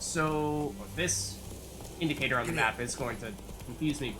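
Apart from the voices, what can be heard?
No distinct noise like a dog, phone or traffic.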